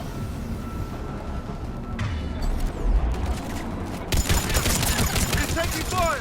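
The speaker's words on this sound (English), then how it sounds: "He's taking fire! Protect him." Gunfire in the video game Mass Effect 3, a dense fusillade of rapid shots with booming impacts, loudest in the second half and mixed with game sound.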